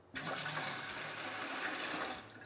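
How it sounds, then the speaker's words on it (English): Tap water pouring steadily into a pot for tomato canning, a close, continuous rushing splash that starts abruptly and runs for a couple of seconds. "I'm going to get another litre of"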